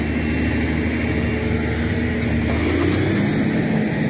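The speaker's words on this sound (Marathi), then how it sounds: "इंजिनचा आवाज खूपच येतोय." A LiuKong machine with its blade stuck in soil runs its engine hard, giving a loud, steady, rumbling drone close by for the whole stretch with no talking.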